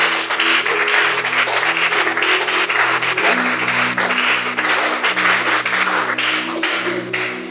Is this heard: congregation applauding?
yes